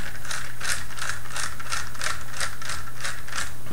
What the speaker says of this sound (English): let's just go ahead and unscrew those